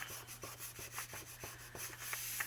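Glue being rubbed off a paper belly band by hand, a soft repeated scuffing in short strokes, about a handful over a couple of seconds, faint and close with a steady low hum behind.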